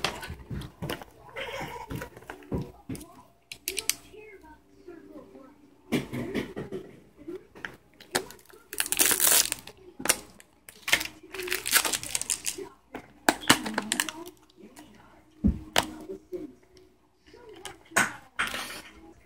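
A plastic-wrapped package being opened with one hand gives irregular bursts of crinkling and rustling separated by short pauses, while a person talks intermittently.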